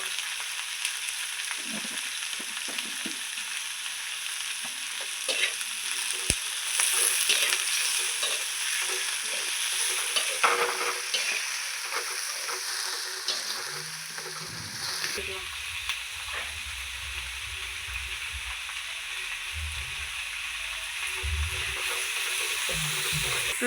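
Onion and tomato sizzling and frying in a pan as the base for a fish curry, a steady close crackle with occasional stirring scrapes, faint talk in places.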